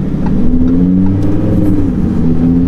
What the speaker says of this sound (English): you're exposed a lot more to the V10 soundtrack, which is already enhanced